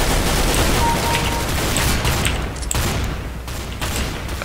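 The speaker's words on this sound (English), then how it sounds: "this is a good gun because it's 3-round burst" A three-round burst rifle in the video game CS:GO, firing in loud, dense bursts of rapid shots that run almost continuously, with a slight dip partway through.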